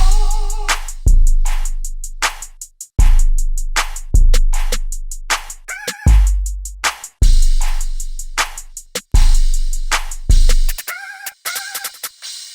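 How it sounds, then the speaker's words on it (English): A trap hip-hop beat of punchy kicks, crisp hi-hats and snares over long, deep sliding 808 bass notes, with occasional melodic stabs. "drums and 808 together sound like this."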